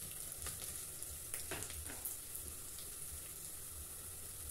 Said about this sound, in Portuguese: Tá fritando aqui ainda, olha.